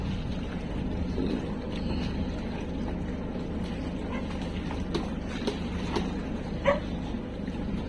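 Dogs yelp and whimper amid flooded streets after a super typhoon, sporadic short barks and yips rising over a constant low rumble of water and engine noise.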